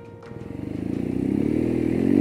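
A BMW R nineT Urban G/S motorcycle engine thrums close by on an expressway with a pulsing beat that quickens and grows louder as the bike accelerates.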